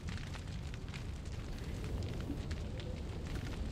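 A shot barrel explodes in Resident Evil 4, leaving a continuous, fairly quiet crackling roar of fire and debris that holds steady without a distinct single bang.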